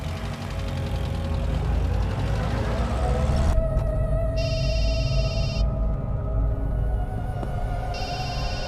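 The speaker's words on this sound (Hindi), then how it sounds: "किसका फोन है मोहन?" A telephone rings in bursts of two electronic trills separated by a pause, heard over a steady low engine-like rumble in a tense dubbed action film scene.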